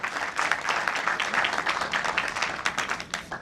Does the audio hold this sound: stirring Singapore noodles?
no